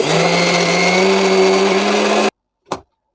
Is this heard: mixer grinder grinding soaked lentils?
yes